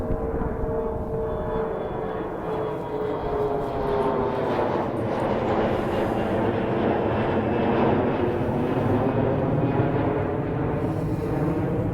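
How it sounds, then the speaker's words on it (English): A United airliner takes off from Dane County Regional Airport on a cold day, its engine roar building steadily and loud as it climbs overhead, with no talking. "there's a plane taking off"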